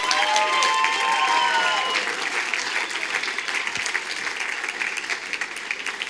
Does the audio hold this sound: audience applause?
yes